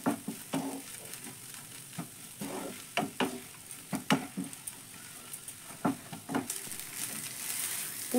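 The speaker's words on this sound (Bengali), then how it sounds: "এবার সব কিছু ভালো করে মিশিয়ে আমি 2 থেকে 3 মিনিট পুরটা ভালোভাবে রেডি করে নেব" Filling is stirred and fried in a pan with repeated scraping strokes and a steady sizzle underneath, the stirring coming in irregular bursts; no voices.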